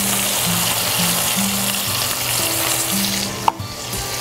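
Wine poured into a pan of sizzling translucent onions, a steady loud frying hiss with a sharp clatter near the end, close and continuous, no speech.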